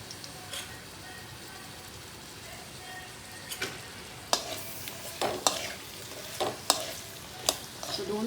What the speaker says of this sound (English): the ghee has melted. So I'm adding the long cut onions.